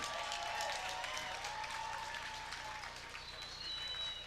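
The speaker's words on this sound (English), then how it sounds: "How about a round of applause for our first pro bout of the evening" An audience at a pro kickboxing event claps and cheers in sustained, moderately loud applause that fades slightly toward the end, with a voice carrying over it.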